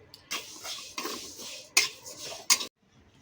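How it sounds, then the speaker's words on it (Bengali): Moong dal roasting in a kadai (wok), stirred with a utensil: dry scraping and rustling strokes with a few sharp metallic clinks against the pan, close and fairly quiet, in short bursts before stopping. "এবার মুগ ডালটাকে আমরা কড়াই দিয়ে দিলাম"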